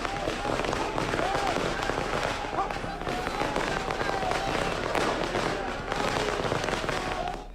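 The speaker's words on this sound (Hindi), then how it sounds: "आतिशबाजी का माहौल" Fireworks and firecrackers burst in a dense, continuous crackle during a celebration outside a politician's house in Bhind, with crowd noise beneath and someone talking over it throughout.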